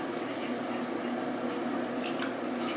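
Water wrung from the wet fur of a silver Persian cat after a bath trickles and drips steadily, soft and close, with a couple of brief splashes near the end.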